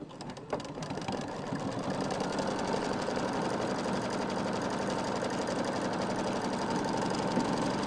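An embroidery machine in a home sewing room stitches the inner fill of a design, a steady fast mechanical chatter running unbroken at close range.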